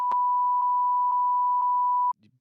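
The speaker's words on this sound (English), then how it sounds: "Did you bleep it out?" A censor bleep covers a spoken phone number: a steady pure tone runs for about two seconds, broken by four brief dips, and the clip ends just after it.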